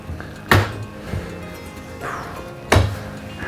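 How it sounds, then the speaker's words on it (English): Cabinets in an Alliance 24 RK RV are opened, producing two solid close thunks about two seconds apart, with softer knocks and rattles in between. "And we'll open up some of these cabinets as well."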